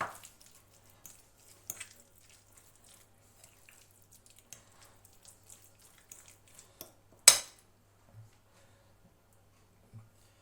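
Butter stirred into a homemade sandwich spread with pork brawn in a bowl: quiet, sparse scrapes, soft squishes and light utensil clicks, with one sharper clank near the end.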